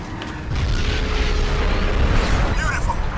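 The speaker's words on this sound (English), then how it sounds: "Use the tank cannon! Wax that thing!" A tank cannon fires in the video game Crysis, a loud sustained blast and rumbling explosion that keeps going for about three seconds, with mechanical clanking and a brief high chirp near the end.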